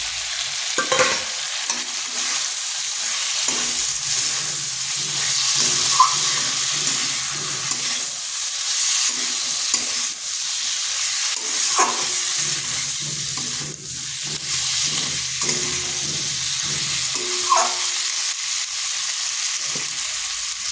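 Sliced pointed gourd fries in a pan, a steady loud sizzle with rhythmic scraping and clatter from a spatula stirring throughout, no voices.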